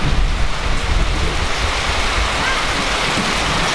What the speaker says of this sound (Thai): ฝนตกโคตร